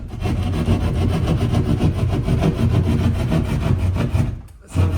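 Keyhole saw cutting through sheetrock to open a hole for electrical wiring in a new garage bathroom, a loud, close, rapid rasping stroke rhythm lasting several seconds before a brief pause.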